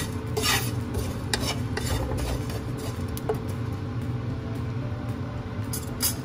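Sesame seeds dry-roast in a pan over low heat, stirred continuously, making a close, gritty rustling scrape with a faint sizzle beneath and a few light clinks of the utensil.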